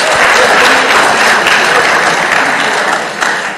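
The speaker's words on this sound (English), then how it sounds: "Another big round of applause to the Peace Ambassadors" Dense, steady applause from a large audience at the closing session of the 18th Africa Scout Conference in 2022, loud and continuous throughout with no voices over it.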